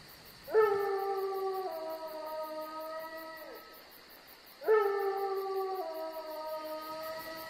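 Wolves howl in the hills: two long, rising-then-falling howls with rich harmonics, one after the other with a short pause between, carried over a steady faint hiss.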